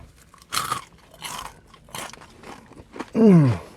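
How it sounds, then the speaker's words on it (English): Crispy Jollibee fried chicken skin bitten into up close, several loud crunchy bites and chewing in quick succession, ending in a strong, bright crunch. "I wonder what this crunch is gonna taste like."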